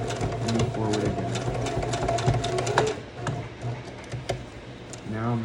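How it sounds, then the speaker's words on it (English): Sewing machine back-stitching a jeans seam in short bursts of rapid needle clatter, pausing and restarting, close by with a voice speaking in between. "I actually like to start with a back stitch first, and then move forward, back stitch again,"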